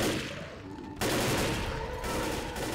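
Bursts of assault rifle fire in the zombie shooter Left 4 Dead, loud and close, a dense rattle that breaks off briefly and resumes in rapid volleys.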